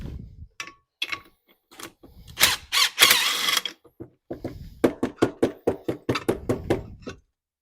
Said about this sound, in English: you will have to take that nut all the way off because you reuse it on the new pump